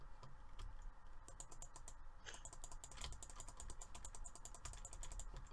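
Rapid, dense bursts of clicking from a mouse being spam-clicked during Minecraft PvP combat, a steady flurry of sharp close ticks running throughout with no pauses.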